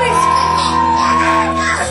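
A voice imitates a scream, a loud sustained strained shout with a steady pitched tone held across nearly two seconds, close and alone.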